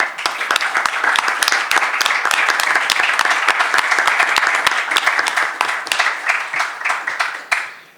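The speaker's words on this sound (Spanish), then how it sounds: "Les pido un fuerte aplauso para él." An audience at a law faculty lecture applauds a law professor with strong, steady clapping from many hands. The sound stays loud and even for about seven seconds, then thins out and fades away at the end.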